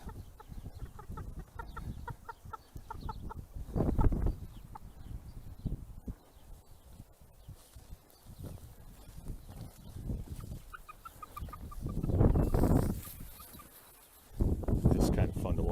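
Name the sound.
chickens clucking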